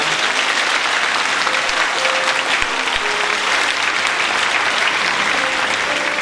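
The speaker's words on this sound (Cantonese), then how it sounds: "可唔可以俾啲次掌聲俾朱校長啊？" Sustained, dense applause from a large audience at a joint primary school graduation ceremony, loud and steady, clapping for Principal Chu without pause for the whole stretch.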